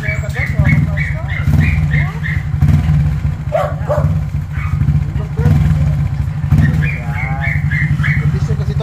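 Honda motorcycle engine idling steadily with a deep low rumble throughout, while several people talk over it nearby and a dog barks at points.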